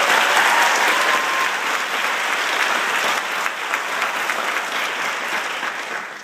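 Graduation crowd at a valedictorian speech applauding parents, guardians, teachers and mentors, a loud, steady wash of many hands clapping throughout without letup, fading slightly at the end.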